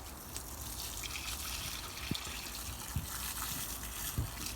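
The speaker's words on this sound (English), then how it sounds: "So we just need to water that in." Water splashes steadily from a hose or can onto freshly pruned garden plants, a soft continuous gush with a few faint thuds, fairly quiet and without speech.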